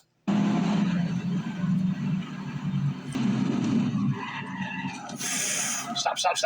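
A car skids toward the road edge, a loud engine and tyre roar recorded by a dashcam with a sharp jolt partway through, while a person talks over it.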